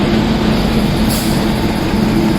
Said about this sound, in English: there is a train coming